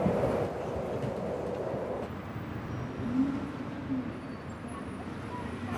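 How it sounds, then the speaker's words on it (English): A subway train arriving at a metro station rumbles steadily with broad low roar and rail noise throughout, fairly near, with no talk over it. "Train's coming, hurry."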